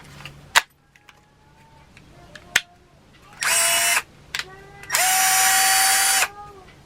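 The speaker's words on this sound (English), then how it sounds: "you have the impact gun that will help drive those in quickly" A Milwaukee M12 impact driver drives a screw, cutting in with two loud rattling whirs of about half a second and one and a half seconds, between scattered clicks and handling knocks at close range.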